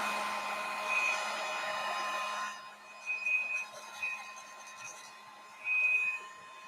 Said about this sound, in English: Heat gun. Just to dry this off a little more quickly.